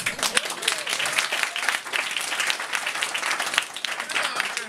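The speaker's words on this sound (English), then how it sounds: "give yourselves a round of applause, Marcel" Sustained, dense audience applause at a comedy show at The Stand in Edinburgh, loud and steady from start to finish with an even wash of many hands clapping together.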